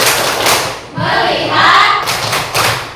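A group playing the 'tepuk fokus' ice-breaking clap game, with dense rhythmic clapping in quick bursts from many hands, close and loud, separated by brief pauses.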